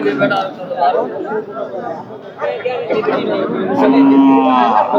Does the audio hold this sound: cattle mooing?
yes